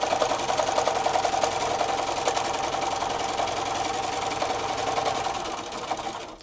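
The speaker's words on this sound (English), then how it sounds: "I'm going to go ahead and sew the one side and show you where that line is." A sewing machine runs steadily, stitching the seam of a strawberry quilt block, a continuous close motor whir with fast needle chatter that barely varies before easing off at the very end.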